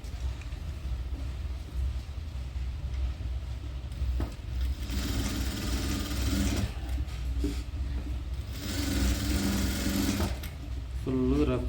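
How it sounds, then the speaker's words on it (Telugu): A sewing machine stitches the frill of a full-frill baby skirt in a tailoring room, running in several close bursts of rapid mechanical whirring with brief pauses between, no speech. "ఇలా ఇలా పెట్టుకొని స్టిచ్ చేసుకోవాలి."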